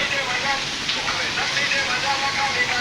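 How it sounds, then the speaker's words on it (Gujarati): Heavy rain falls on a farm field in a steady, broad rushing hiss with slight fluctuations, fairly loud and close, with no speech. "કેવો મસ્ત મજાનો વરસાદ આવ્યો છે"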